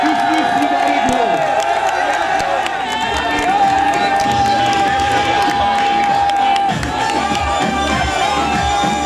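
A crowd at a Christmas celebration with cake-cutting claps and cheers loudly and continuously, with whoops, shouts and children's voices mixed in and a sustained tone running through.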